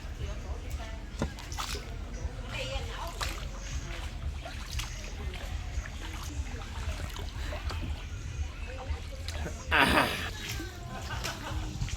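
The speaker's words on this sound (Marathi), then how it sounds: "आता आम्ही ही बोट राईड करत आहोत" A coconut boat rides on the water near Da Nang in a coconut forest, with a low steady rumble of the boat and water, faint splashes and a louder burst near the end, while people talk and chuckle nearby.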